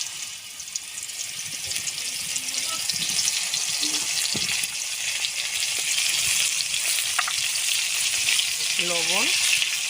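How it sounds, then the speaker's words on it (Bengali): Pointed gourd pieces sizzle in hot oil, a close, constant crackling hiss with occasional sharper pops, and a voice is briefly heard near the end. "পটলগুলো ভেজে নেব।"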